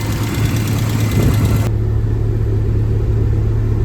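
Steady close idle of a Porsche 944 Turbo engine after repair, an even low rumble running throughout with a slight shift in tone partway through.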